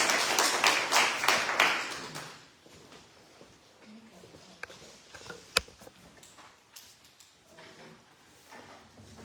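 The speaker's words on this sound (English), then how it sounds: "A big hand of applause." Brief applause from a church service congregation opens with a burst of clapping that fades over about two seconds, followed by quiet room noise with scattered taps and one sharp knock.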